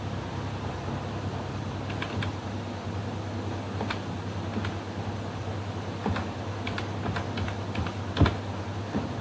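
Fingers tap keys on a computer keyboard while entering a mobile number on an online RTE admission form, producing irregular clicks spread over several seconds above a steady low hum.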